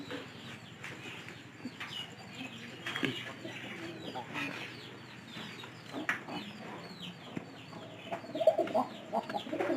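Pigeons coo repeatedly in soft, low throaty bursts nearby, scattered through the clip alongside some clucking and faint background voices.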